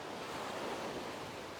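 Ocean waves roll in against a shore from shifting angles near a man-made structure on a steep shelf, a steady broadband wash of surf mixed with wind buffeting the microphone, continuous and fairly loud.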